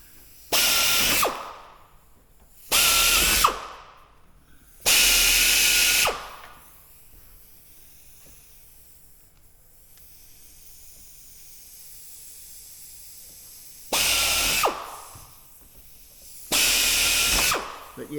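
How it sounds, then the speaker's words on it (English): Five short bursts of a power drill biting into metal, each a harsh whirring grind of a second or so, separated by quiet pauses, drilling out rivets on an aircraft rudder. "We don't want to drill all the way through and out the other side."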